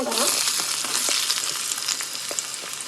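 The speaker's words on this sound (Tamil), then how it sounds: "கொஞ்சம் எண்ணெயை ஊற்றி பட்டையும் லவங்கமும் போட்டிருக்காங்க" Cinnamon and cloves fry in hot oil for a pasta dish, giving a steady, loud crackling sizzle with small pops, close up and with no voices.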